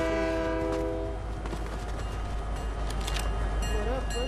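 Train horn in a multiplayer shooter video game, a steady sustained blast at the start over continuous rumbling rail noise, with people talking over the game audio.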